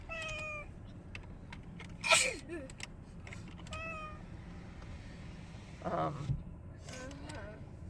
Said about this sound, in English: Cat really wants to get out.